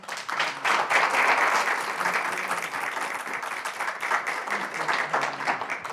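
An audience at a campus community event claps in sustained, even applause, a dense patter of many hands at steady moderate loudness with no voices over it.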